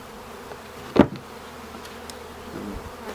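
A dense swarm of honeybees in a shipping package buzzing steadily, broken by a sharp thump about a second in as the package is bumped to knock the bees down.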